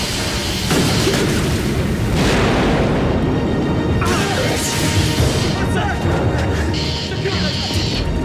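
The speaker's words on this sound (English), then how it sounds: "Explosion was on the other craft," A heavy explosion roars aboard a submarine in a Cold War military thriller film, a sustained loud rumbling blast with crashing debris and alarm-like tones over about eight seconds.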